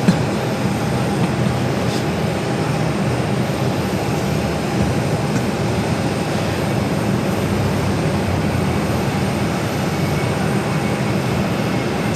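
A Delta Airbus A330-300 heavy jet rolls for takeoff toward Detroit, its engines producing a steady, loud, broadband roar that holds constant throughout without any break.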